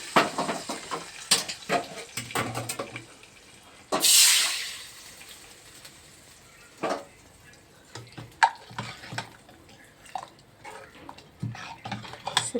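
Tempering spices frying in a pan: sharp crackles and pops scattered irregularly over a faint sizzle, with one loud hissing burst partway through.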